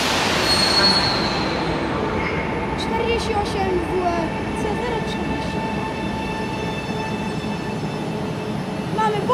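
A train pulls into a station in Wrocław: a loud rolling rumble with sustained high wheel squeal and brief metallic clicks as it slows, voices faintly in the background.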